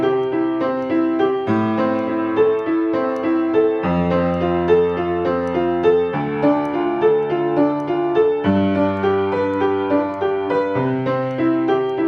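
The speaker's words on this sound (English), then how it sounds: "I'm going to play them as arpeggios." Piano chords in major and minor keys are broken into flowing arpeggios, one note at a time, in an even, continuous stream of sustained tones with steady loudness and no voices.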